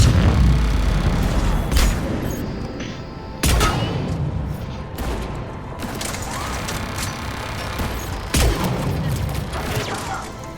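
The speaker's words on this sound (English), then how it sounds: "So apparently that turret can shoot me," Heavy turret gunfire in the sci-fi shooter Mass Effect 3, on the Omega level: loud, sustained bursts with sharp impacts and booms recurring every few seconds, with no voices over it.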